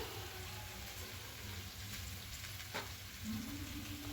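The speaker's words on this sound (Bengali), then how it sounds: "মশলার সঙ্গে আলুটা খুব ভালো করে দু মিনিট একটু কষিয়ে নেব" Potatoes sizzling gently in a pan with spices while being cooked for potato biryani, a soft steady frying hiss with a brief stir scrape near the end, quiet and close, no speech.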